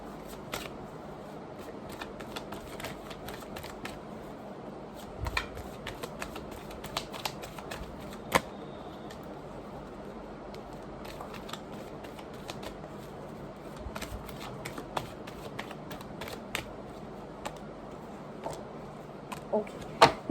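Tarot cards are shuffled by hand at close range, giving a continuous soft riffling patter broken by sharp little slaps and flicks as cards drop out, with no talking over it.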